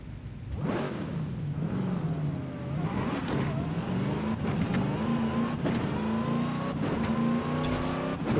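Supercharged race car engine in Forza Horizon 5, a steady loud drone that climbs in pitch as it revs up, with brief gear-shift dips and a continuous near, sustained roar throughout with no talking.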